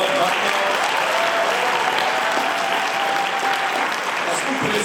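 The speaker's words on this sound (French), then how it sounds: "je demande qu'on les applaudisse très très fort maintenant" An audience applauding loudly in a hall at the final of a Lille debating cup, a dense continuous clapping roar holding steady throughout, heard close and alone.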